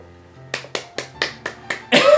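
A few sharp claps spaced about a quarter second apart ring out close by in a small room, then a burst of bright cheering noise at the end, with no talking over them.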